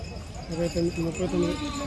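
Sheep bleat a few times in quick succession at a busy livestock market, close and fairly loud, against a background of crowd noise.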